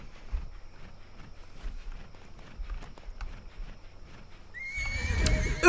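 Horse whinnying with clip-clopping hooves in the Disney Infinity Lone Ranger video game: soft hoofbeats plod steadily, then a loud, close neigh bursts out near the end.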